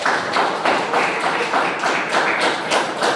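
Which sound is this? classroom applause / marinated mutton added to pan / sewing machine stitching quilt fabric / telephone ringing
classroom applause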